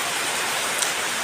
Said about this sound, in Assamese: বৰষুণটো এৰিলে তো এৰাই নাই অলপ অলপকৈ দি আছে